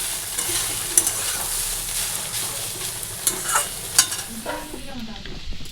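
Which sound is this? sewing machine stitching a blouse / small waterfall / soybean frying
soybean frying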